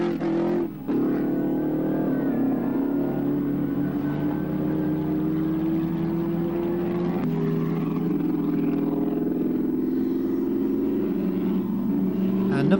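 Vintage Bugatti racing car at Silverstone, a steady droning engine note whose pitch climbs gradually as the car holds speed, with a brief dip near the start and no voices.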